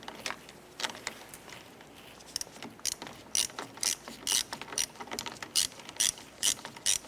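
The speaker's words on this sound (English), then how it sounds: "Let's go ahead and tighten down this side." A hand ratchet tightens a bolt on the corner light of a 1993-1997 Ford Ranger, starting with slow scattered clicks and then settling into a steady, close rhythm of crisp clicking strokes.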